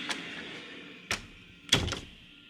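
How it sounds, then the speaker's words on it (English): An indoor door is closed with a few separate knocks and thunks, the last one the loudest, close by in a quiet room with no talking. "You want me to close the door so you can go to sleep again?"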